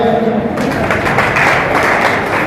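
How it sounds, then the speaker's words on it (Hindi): An audience gives loud applause for a madam, a dense, continuous wash of clapping close by and strong throughout, with a little voice mixed in at the start. "मैडम जी के लिए जोरदार तालियां"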